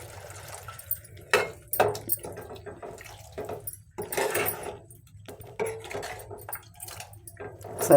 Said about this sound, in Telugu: ఇప్పుడు మనం ఇందులో కొద్దిగా వాటర్ వేసుకుందాము.